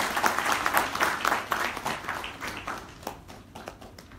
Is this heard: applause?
yes